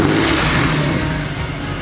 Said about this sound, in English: With the tips finally on the car, it's ready for its first start.